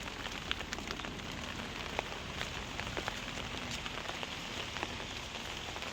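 Rain falls steadily on a garden with plants, a dense, even patter with scattered sharper drips close by and no voices.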